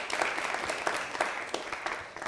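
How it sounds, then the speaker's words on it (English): Audience applause for a student panelist at a televised debate, a steady wash of clapping at moderate level with individual hand claps popping out, continuous throughout with no talking over it. "A round of applause for her."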